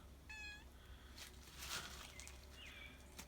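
A cat gives a short, faint meow, then a second, softer drawn-out call follows a few beats later, both at a distance against quiet outdoor background noise with a few small knocks.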